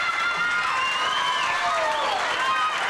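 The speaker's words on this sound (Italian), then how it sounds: "Facciamo un applauso ancora più forte ad Osino." An audience at a community celebration, the Festa dell'Impegno, applauding steadily under a dense wash of crowd noise, with cheering and shouted voices rising over the clapping throughout.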